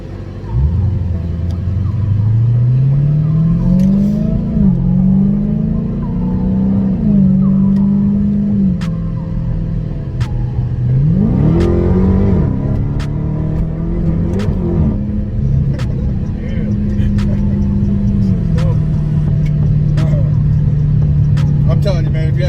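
Dodge Hellcat engine revving and accelerating up through the gears, a loud, deep rumble rising and falling in pitch with several gear shifts, heard from inside the car while people talk over it.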